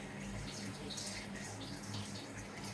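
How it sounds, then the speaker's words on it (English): Hot spring water pours steadily into an onsen bath at a resort room in Beppu, a continuous close rushing and splashing with no break. "all the water hot springs water that's being pumped in here is coming from the source"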